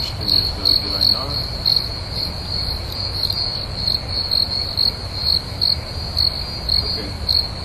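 Crickets chirping somewhere indoors near a desktop computer, a steady high-pitched trill pulsing in rapid repeated bursts, fairly loud and alone with no talk.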